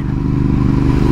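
A Ducati Hypermotard 796 supermoto engine running close up on a busy road, a loud, even low-pitched throb with regular firing pulses and no speech over it.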